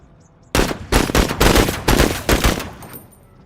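Rapid bursts of gunfire strike a vehicle in the tactical video game Menace, a loud close volley of about eight sharp shots after a quiet start, fading away at the end.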